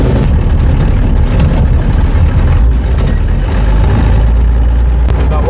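A 1974 Mercedes Unimog 406 engine runs steadily and loudly up close, a deep, throaty idle rumble that holds constant with no talking over it.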